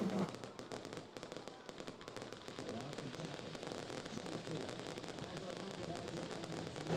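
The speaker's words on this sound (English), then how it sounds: "Fireworks are exploding off here" Fireworks go off after a high school football game, a dense continuous crackle of small pops at a distance, fairly faint under a stadium crowd and a voice talking.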